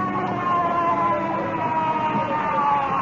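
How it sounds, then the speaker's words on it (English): A wailing ambulance siren, steady and fairly loud, heard through a foggy night setting with no voices over it. "Is that the ambulance yet?"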